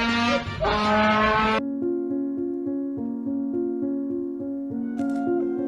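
A man plays a trumpet-like horn to mimic a motorcycle, producing a sustained buzzing tone with repeated pitch steps and revving swells; a brief burst of louder noise opens the passage before the steady horn line takes over.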